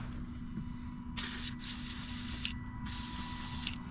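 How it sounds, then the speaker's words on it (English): WD-40 sprayed onto a seized bolt on a Nissan 300ZX 2+2 fuel tank, heard as three close aerosol bursts of hiss, the middle one longest, over a low steady background hum. "So I'll go to WD-40 that."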